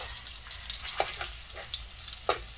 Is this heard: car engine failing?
no